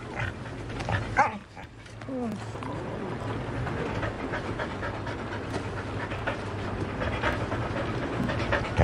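A dog pants steadily close by, with a few brief barks or yelps early on, over a low rumbling background like a train ride; voices talk briefly.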